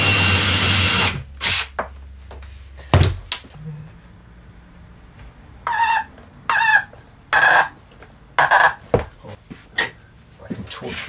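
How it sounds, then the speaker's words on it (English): A power drill whirs in a long burst while drilling holes in plastic, followed by short intermittent bursts of drilling with pauses between them. "watch me drill holes in plastic."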